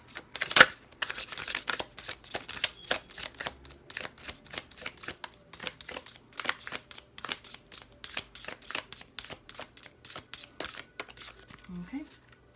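Oracle cards from a nature-themed deck are shuffled by hand in quick, steady riffles of soft flicking and slapping, close and fairly quiet, with a brief voice near the end.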